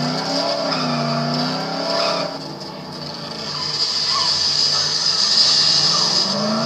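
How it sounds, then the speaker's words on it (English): A car in the zombie video game Dead Island skids with squealing tires and engine whine, the tire screech sweeping in pitch before fading into a steady engine drone. "Oh, we just crashed into that wall."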